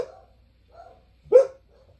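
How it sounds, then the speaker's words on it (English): Dogs barking indoors: a few soft, short barks early on, then one sharp, louder bark near the end of a quiet room. "Oops, sorry for my dogs."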